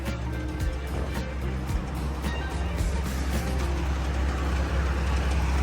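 A SAKAI T2 seven-wheel pneumatic tire road roller drives along. Its steady engine rumble and low mechanical drone run without a break and stay loud throughout, with a rattling upper-frequency wash above.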